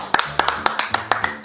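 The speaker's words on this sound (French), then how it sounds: "on applaudit tous Léa." A family claps their hands together at a hide-and-seek game in Morocco: about six quick, sharp claps in a steady rhythm, close and fairly loud.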